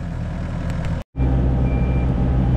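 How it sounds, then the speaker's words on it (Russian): A JCB 3CX backhoe loader at a house excavation site sounds its reversing beeper over a loud, rumbling diesel engine, with a brief cut before the engine noise resumes. "Вот эта пищалка меня сведет с ума."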